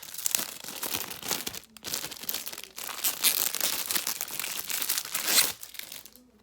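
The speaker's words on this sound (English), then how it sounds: "Take this plastic off." Plastic wrapping crinkles and tears as it is pulled off a Louis Vuitton Monogram Eclipse Multiple wallet, close crackling bursts with short pauses between pulls.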